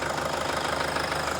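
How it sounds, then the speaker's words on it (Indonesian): A 2005 Toyota Kijang Innova G diesel engine idles close by, a loud, steady, rhythmic clatter with a low throbbing hum and no voices. "Dan ini suara mesinnya ciri khas diesel ya"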